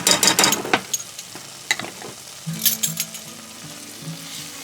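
Minced garlic dropped into a sizzling gumbo pot, opening with bursts of crackling spatter and stirring scrapes, then easing to a lighter steady sizzle with soft clinks, close and fairly loud, no talking.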